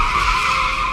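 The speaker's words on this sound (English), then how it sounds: "tires screeching as the car skids to a stop" A car's tires screech in a sustained, loud skid as it brakes hard to a stop on a night road, with no other sounds.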